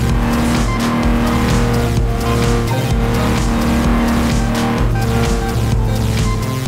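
A Porsche race car roars past at high, constant volume, with a dense engine drone, gear-driven whine and tyre noise filling the whole stretch without a break or any voices.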